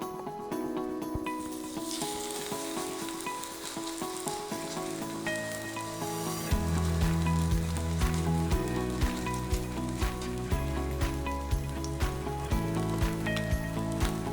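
Korean pancake with shrimp frying in oil in a pan, a steady bright sizzle and crackle close by, joined partway through by rhythmic tapping and louder background music.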